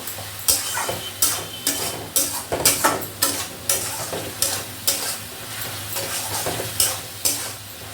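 Spices with ginger and garlic frying in a pan with a little salt, stirred with rhythmic scraping strokes about once a second over a continuous close sizzle.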